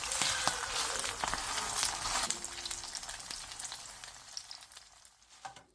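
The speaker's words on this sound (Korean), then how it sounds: "바닥이 노릇노릇해지면 뒤집은 뒤 마저 노릇하게 붙여주세요." Napa cabbage pancake frying in a pan over medium-low heat gives off a steady, close sizzle and crackle that slowly softens toward the end, with no talking.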